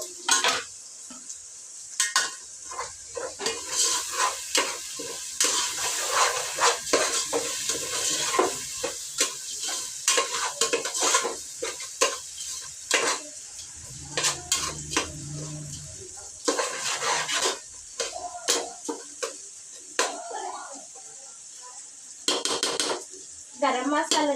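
Onion, tomato, ginger-garlic paste and dried red chillies sizzling in a pan as masala is cooked for bagara rice and egg curry, with repeated spoon stirring and scraping clinks against the metal, close by, without speech.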